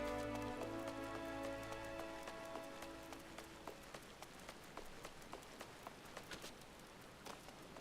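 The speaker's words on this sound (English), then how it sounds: "it's raining over here" Steady rain pours down in the video game Final Fantasy XIV, a dense patter of drops with sharper individual splashes landing throughout, close and continuous with no voices.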